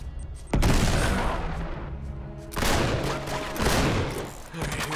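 Grenade blasts in Uncharted 3: Drake's Deception, several loud, sudden booms in succession with crackling gunfire between them, close and heavy, with voices talking underneath.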